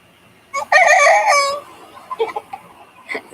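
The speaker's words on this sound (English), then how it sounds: "I have 2 roos in my chicken tractor, and they sound so funny trying to crow." A young rooster crows once, a cracked, wavering call lasting about a second, followed by softer clucks and rustling nearby.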